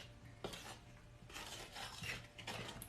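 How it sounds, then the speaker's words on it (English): Chocolate chip caramel cookie dough stirred in a bowl with a fork, quiet scraping and rubbing strokes in irregular bursts, close and soft, with no talk. "We'll give this a nice stir"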